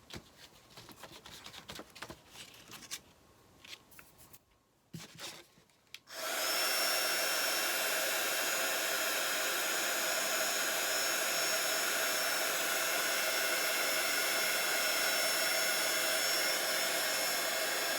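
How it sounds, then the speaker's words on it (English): A heat gun drying paint on a thrifted decor piece switches on after a few seconds of quiet handling noise, then blows with a loud, steady, unbroken whoosh and hum to the end. "it's going to make it easier to dry when I hit it with the heat gun."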